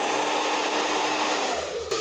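A hair dryer blows steadily on short hair, giving a close, continuous whooshing rush at constant loudness with a slight change in tone near the end and no voices.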